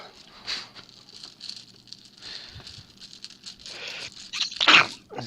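A single sharp sneeze near the end bursts out during a tabletop game session, preceded by quiet room noise and faint scattered murmurs.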